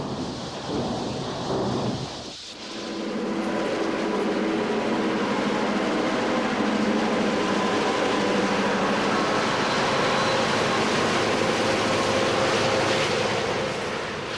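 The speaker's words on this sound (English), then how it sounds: "Cut in near the end of this eastbound train is a cab forward smoking it up." A Southern Pacific eastbound freight train with a cab-forward steam locomotive cut in near the end rolls past, a loud, steady roar and rumble of wheels and cars that swells in after a brief dip and continues unbroken.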